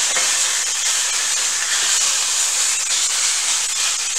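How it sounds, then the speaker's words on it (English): Cube steak pan-frying in a hot skillet gives off a steady, dense sizzle that holds close and loud for the whole stretch, with faint crackles and no talking. "What you're getting is a pan fry grill kind of thing going on."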